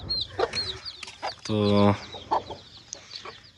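Chickens clucking on a farm, several close, brief clucks scattered throughout, with one louder, sustained squawk near the middle and someone talking briefly among them.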